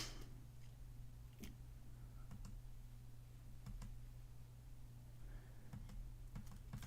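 Quick bursts of keystrokes on a computer keyboard, clustered in short runs and separate taps, sitting quietly over a steady low electrical hum with no talking.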